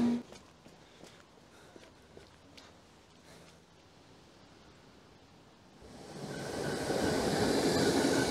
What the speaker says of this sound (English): I can actually see the other train coming in the distance.